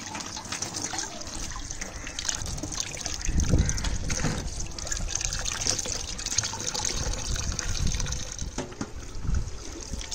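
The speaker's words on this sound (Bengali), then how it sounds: "সবজিগুলো সব ধুয়ে নিলাম" Vegetables for a Bengali brinjal dish are rinsed under a running tap, a steady close splashing and trickling stream of water that swells and eases over about ten seconds with no clear speech.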